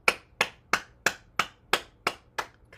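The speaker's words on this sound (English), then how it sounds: "So starting with the heart, we clap our hands." Hands clapping during a morning bouncing exercise routine, eight sharp claps in a steady even rhythm, close and fairly loud with nothing else heard.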